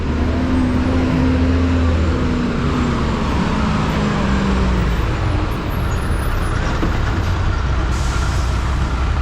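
A Guatemalan chicken bus rolls through busy street traffic, its engine a steady loud rumble with a sharp air-brake hiss near the end, surrounded by continuous roadway noise.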